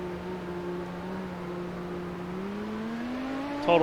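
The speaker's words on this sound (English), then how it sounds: "you just kind of end up idling around" A 1990s V10 race car in the Automobilista 2 racing game holds a steady idle on a soaked track. The engine tone stays constant, then climbs slowly and ends in a brief louder blip. No one speaks.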